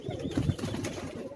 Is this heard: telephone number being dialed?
no